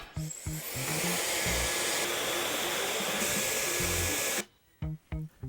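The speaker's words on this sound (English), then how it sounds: "get yourself a decent hairdryer with a decent nozzle" A hair dryer blasts loudly and continuously, its airflow shifting as it moves, then cuts off abruptly, leaving a few brief low thumps.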